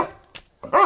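A dog gives a short yip and then one louder, sharp bark close by, both brief and separated by a moment of near silence.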